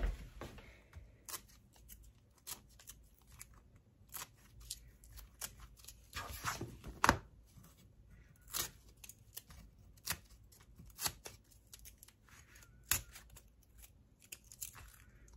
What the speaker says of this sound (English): I'm going to remove all my tape.